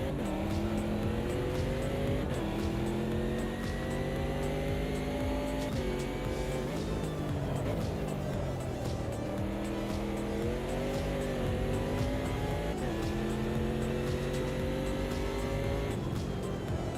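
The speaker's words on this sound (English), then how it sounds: "BMW coming past." BMW race car in the Automobilista 2 racing game, its engine note rising and falling through gear changes as it passes close by, over the steady drone of the player's own car.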